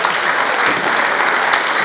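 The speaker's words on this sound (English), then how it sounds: "you all need to give a bigger round of applause" A large audience at a Ritz awards ceremony with a dance parade gives a loud, steady round of applause, dense clapping filling the whole stretch without a break.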